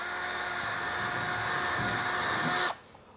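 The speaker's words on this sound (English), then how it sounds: "drill our hole." A power drill bores a hole with a steady high whine running for about two and a half seconds, then cuts off abruptly, close and alone.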